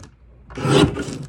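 Cardstock pieces are trimmed on a paper trimmer: one short, close rasping slide of the blade through the card after a quiet moment.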